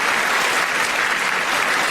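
Political audience applauding during a speech, dense steady clapping from a large crowd giving a standing ovation, sustained and even with no pauses.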